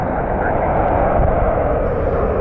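An Etihad Boeing 787 Dreamliner, inbound from Abu Dhabi, arrives at Washington Dulles with a steady, loud engine rumble that fills the whole moment, with a voice faintly present beneath it.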